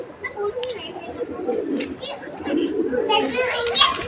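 Pigeons cooing in a rooftop loft in India, soft rolling coos repeating close by amid a busy background with children's voices and other bird calls.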